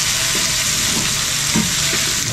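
Food sizzles and fries steadily in a kawali pan, a dense, continuous hiss close by with a few soft stirring bumps and no talking.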